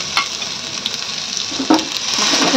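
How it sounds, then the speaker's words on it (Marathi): Cumin, garlic, coarse green chili paste and asafoetida hit hot oil for a tadka, giving a steady bright sizzle with a couple of sharp crackling pops near the start and middle. "जिरी, लसूण आणि हिरवी मिरची घालून आपला तडका रेडी आहे"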